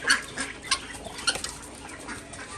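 Chickens cluck as they are let out of their coop on a farm, a few short, sharp clucks and squawks coming in separate bursts close by over a quiet background, with no talking.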